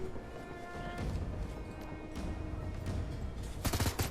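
Gunfire exchanges in the video game Shadowrun: Hong Kong, a steady low rumble of game ambience punctuated by scattered shot bursts and a louder cluster of rapid hits near the end.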